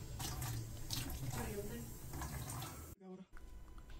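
White vinegar and baking soda are poured into a kitchen sink drain, giving a wet splashing and gurgling pour close by under a voice, then a brief silence before the liquid noise resumes.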